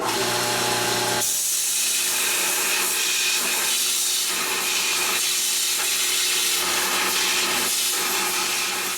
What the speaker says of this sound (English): I built myself a belt grinder, a 2x72 inch belt grinder, and that's what I use to clean up the surface